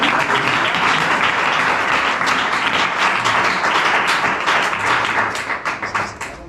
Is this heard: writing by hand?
no